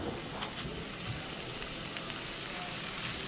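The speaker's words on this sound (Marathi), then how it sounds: "सो आतां घालया आमी मटन पिसीस घालता." Mutton pieces frying in hot oil for a mutton masala give off a dense, even sizzle and crackle, steady and fairly quiet throughout with no voices.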